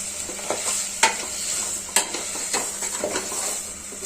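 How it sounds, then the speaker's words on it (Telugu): Paya sherwa curry stirred in a pan over medium flame, a soft continuous sizzle under repeated scraping strokes and a few sharp clinks of a spoon against the metal pan. "కలిపేటప్పుడు కొంచెం సిమ్లో అయినా మీడియం ఫ్లేమ్లో అయినా పెట్టుకొని కలపండి."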